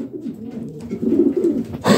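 Racing pigeons in a loft give soft, low cooing murmurs that roll steadily for two seconds, close and moderately loud, with no talking.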